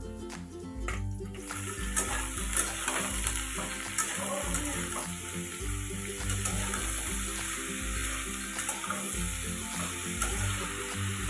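Vegetables sizzling in a pan with well-browned onions, a steady hiss of frying with occasional stirring scrapes and some running-water sounds, close and continuous.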